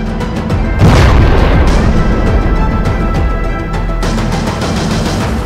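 A loud, deep blast from a suicide bombing near Turkey's parliament erupts about a second in, followed by a sustained heavy rumbling roar that fades only slightly.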